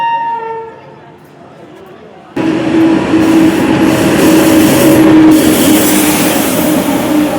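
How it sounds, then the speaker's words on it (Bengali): A quiet start with a fading tone, then a train's loud rumble abruptly takes over and holds steady, with rattling and a faint squeal. "এবার আমার ট্রেনের সময় হয়ে এসেছে এবং ট্রেনের আওয়াজও শুনতে পাচ্ছি।"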